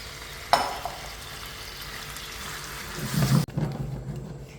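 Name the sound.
chicken being added and stirred into thick orange sauce in a pan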